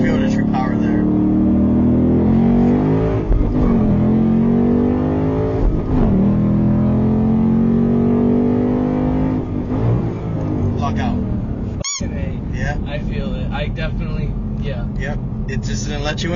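A Ford Mustang GT S550 pulls in first gear, its engine droning loudly with rising and holding pitch inside the cabin as people chat over it.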